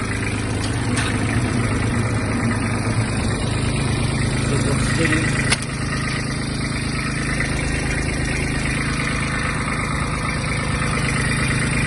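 A Kubota GB-18 Japanese mini tractor engine idles steadily and evenly at close range, a low continuous rumble with no revving, running alone for the whole stretch.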